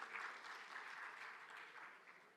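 Sustained audience applause for guests of a panel on articulated platforms at an investment and business forum, a dense steady clatter of clapping hands with no voices on top.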